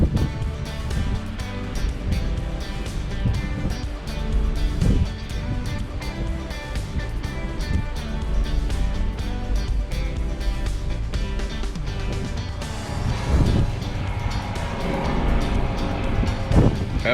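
A cruise ship sails away from the Hawaiian Islands near Hilo, with dense, continuous rushing wind and churning waves close to the microphone, a steady loud roar that barely varies.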